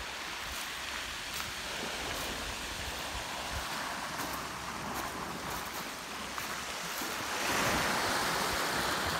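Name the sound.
ocean waves washing on the beach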